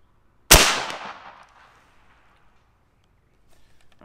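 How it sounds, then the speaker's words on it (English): A single loud, sharp shot from a Seneca Dragon Claw dual-tank .50 caliber airgun, a sudden crack with a long decaying ring, followed by near silence and faint clicks. "Let me shoot one more, and we'll see what we get."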